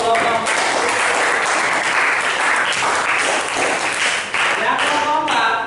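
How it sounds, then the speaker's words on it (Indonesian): Applause from a classroom group of teachers in training, a dense burst of hand clapping that carries steadily for several seconds with a few voices mixed in. "Beri aplaus untuk kelompok."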